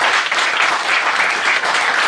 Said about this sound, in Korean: 박수를 좀 격려해 주세요.